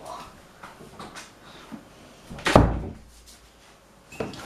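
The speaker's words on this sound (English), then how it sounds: "let me just shut the door" A door is pushed shut indoors with one firm, close thump midway, amid quiet room shuffling and a small knock near the end.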